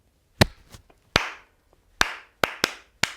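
Body percussion claps in a 6/4 blues pattern ring out alone, several sharp, close hand claps in an uneven rhythm with short gaps and a couple of softer taps between them.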